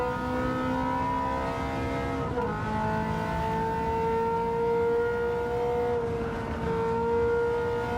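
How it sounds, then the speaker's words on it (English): Sustained, loud engine howl of a 1980s race car at Goodwood, its pitch climbing and dropping through gear changes over several seconds, heard close and alone. "That is the sound of 1980s motor racing"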